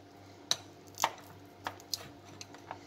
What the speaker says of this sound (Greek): θα ψιλοκόψω το βούτυρο